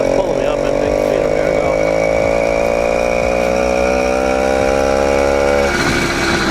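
An 80cc two-stroke motorized bicycle engine with ported cylinder pulls a rider up a steep hill, a loud, buzzing, steadily droning note held under load that drops off sharply near the end.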